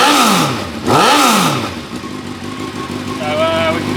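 A Super Mono motorcycle engine runs and revs up close, with two rising-and-falling sweeps early on before it settles into a steady loud drone.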